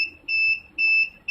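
A UPS kit buzzer beeps three times in an even rhythm, each a loud, steady electronic tone heard up close with no talking.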